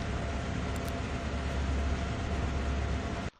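Freight locomotive engine climbing Horseshoe Curve in Train Sim World 2, a loud, continuous low rumble and mechanical roar that holds steady and then cuts off abruptly at the end, with no talking.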